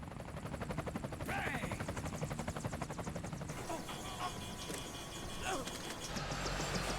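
Two helicopters in the Metal Gear Solid 4 video game, with a steady rapid rotor chop throbbing through the whole scene at moderate level, mixed with other game sounds and a little talk.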